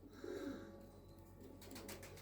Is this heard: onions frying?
no